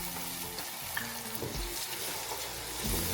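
Close, steady sizzling of ginger garlic paste frying in a pan, with scraping stir sounds and occasional soft clinks throughout.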